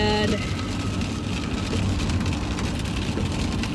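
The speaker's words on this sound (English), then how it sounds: "it is still raining, and it's gonna rain all day long" Steady rain falls continuously outdoors, a dense even hiss with low rumble, loud and close throughout with no talking.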